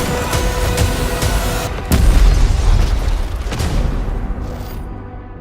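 Deep, rumbling boom in the video game Highguard, a bomb blast swelling out of a dense bed of game sounds and music and slowly fading, with no one talking.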